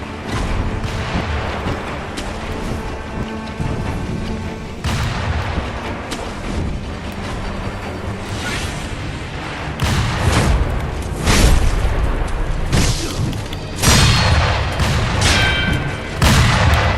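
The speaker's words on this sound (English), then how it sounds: "At least we can parry gunshots." Gunshots in Sekiro: Shadows Die Twice, heavy booming reports fired at the player, landing in irregular bursts over a continuous game soundscape and growing louder and denser toward the end.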